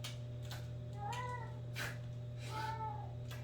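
Meowing from a pet cat indoors, a few drawn-out calls spaced apart over a steady low mechanical hum, moderately close.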